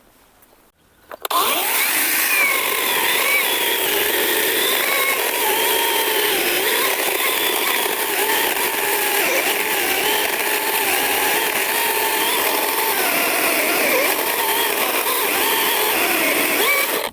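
An ABS Professional cordless saw powered by a 21V 12Ah battery backpack cuts into a dry, long-dead apple tree, starting after a brief quiet moment and then running loud and steady with a continuous whining buzz that holds for the rest of the stretch.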